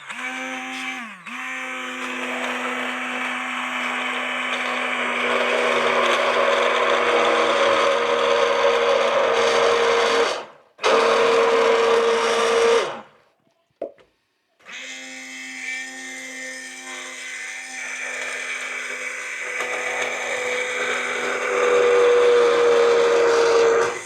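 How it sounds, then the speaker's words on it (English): A hand blender whirs steadily, blending bacon and lentil soup, its motor pitch shifting as it churns, cutting out briefly twice before running on. "I'm going to blend this up."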